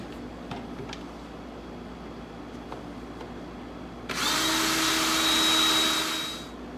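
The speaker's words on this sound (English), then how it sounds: "Drill them out." After a few faint taps, a power drill whirs loudly and steadily for about two seconds, then winds down.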